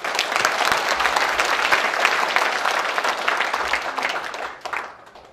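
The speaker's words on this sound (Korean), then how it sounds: "감사의 박수 한번 부탁드리겠습니다." A hall audience gives a sustained burst of thanks-applause for the outgoing alumni association president at a Wonju High School alumni inauguration and New Year gathering, dense clapping that holds steady before thinning out at the end.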